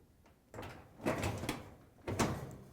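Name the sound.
dryer door lifted off hinge pins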